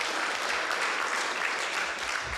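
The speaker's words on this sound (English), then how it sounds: "Round of applause." A team of coworkers gives steady applause for a new employee during an all-team update, a dense, even wash of clapping lasting a couple of seconds at moderate volume.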